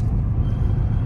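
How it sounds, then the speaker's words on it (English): Low rumbling car noise with a steady engine drone and faint rattle, close and continuous with no talk. "I gotta fix this car, I'm hearing that, Joe."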